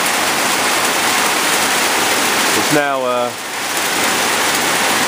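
Heavy morning rain pours down in a loud, dense, unbroken hiss, close and steady throughout, with someone briefly speaking over it.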